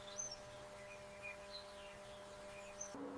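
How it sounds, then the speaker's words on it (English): A bird chirps at a hollow tree, giving a few short, high calls spaced through a quiet, still background; the calls sound faint and somewhat distant. "The bird stops at a hollow tree, chirping loudly to signal success."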